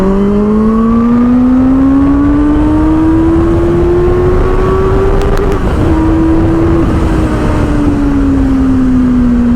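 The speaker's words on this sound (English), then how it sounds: "They have been master in the exhaust sounds department." A loud Benelli 600i motorcycle engine drones steadily, its pitch rising slowly as it revs, with a brief shift midway and a throaty exhaust note throughout.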